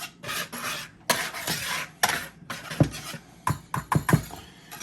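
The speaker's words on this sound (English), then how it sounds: "Take all these dry ingredients. I just take a whisk," A whisk stirs flour, sugar and other dry ingredients in a kitchen bowl, making soft, uneven scraping and rubbing strokes with a few sharper taps against the bowl, close and fairly quiet.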